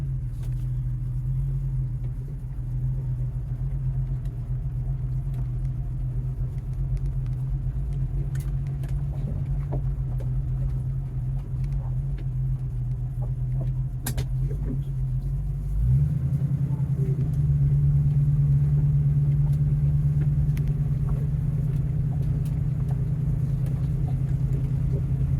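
A Ford Mustang with a suspect fuel pump runs while being driven, giving a steady low engine rumble that deepens and grows slightly louder partway through as it pulls away.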